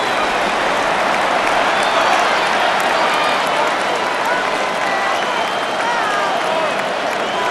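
A loud stadium crowd in the Madden NFL 26 football video game roars steadily throughout, a dense continuous wash of cheering and noise with no talk over it.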